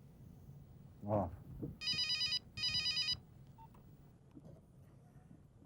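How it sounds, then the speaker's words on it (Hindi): A phone rings in a Hindi TV serial drama scene, two short bursts of bright electronic ringing after a brief spoken word, moderately loud and otherwise quiet around them. "फोन बज रहा।"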